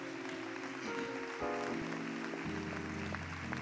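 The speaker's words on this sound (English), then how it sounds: "can we clap for everyone right now?" A church congregation applauds together in a steady wash of clapping, with sustained musical tones playing underneath throughout.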